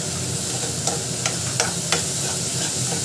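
Brinjal pieces sauté in hot oil for a chicken masala gravy, a steady close sizzle with a few sharp stirring clicks scattered through it.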